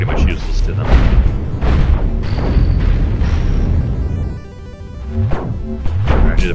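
Booming explosions hit an enemy ship's core in the space combat game Cosmoteer, a run of heavy blasts and crashes over a low rumble, with someone talking over them.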